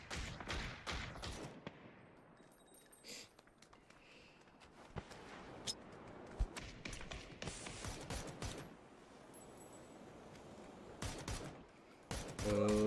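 Gunfire in a competitive shooter game match: sharp scattered shots and short volleys at moderate loudness, irregular and spread throughout, with quieter gaps and footstep-like thuds between bursts.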